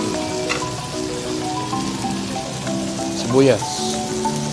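Pork belly samgyeopsal frying on a hot grill at a Korean restaurant in Salmiya, Kuwait, giving a steady crackling sizzle throughout, with someone talking over it and clinking utensils nearby.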